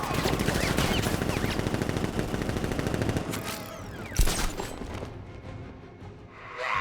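Rapid machine-gun fire roars loud and continuous for the first three seconds of a Batman: Arkham Knight battle, then a single heavy shot booms before the scene settles into a quieter din.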